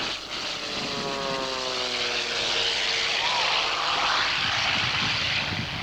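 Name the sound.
Fletcher agricultural aircraft flying at an air show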